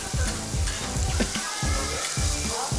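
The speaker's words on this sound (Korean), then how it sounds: "아주 기가 막힌 조합으로 굽고 있죠" Pork neck, pork belly, king oyster mushrooms and garlic sizzle steadily on a grill at a Korean pork-belly street restaurant, a continuous close, loud frying hiss with faint crackles and no talk.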